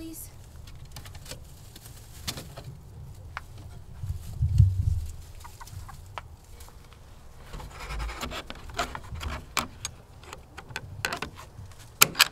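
Chickens clucking around a backyard chicken coop at a home garden, scattered soft clucks and rustling over a steady outdoor background, with some brief noises and faint activity nearby.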